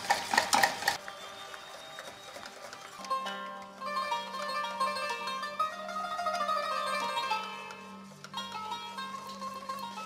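Spoon stirring a strawberry dessert mixture made with cold ingredients and no eggs, with soft scraping and clinking against the bowl, heard close over steady background music.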